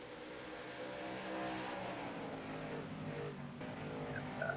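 Stock cars racing on the Five Flags Speedway oval during a Friday night bump-and-run race, lap five of 150: a steady, fairly distant roar of engines with tire noise swelling as the pack passes, fairly quiet throughout.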